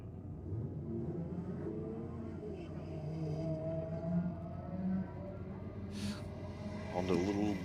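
A Honda and a Subaru launching side by side at a drag strip, with engines revving and rising in pitch as they pull away, plus a brief high squeal near the end, all moderately loud.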